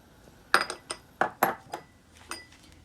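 Whole spices such as fennel, white cumin and coriander seeds are dry roasted in a pan, heard as a few scattered, close clinks and scrapes of a utensil against metal, with short gaps of near silence between them.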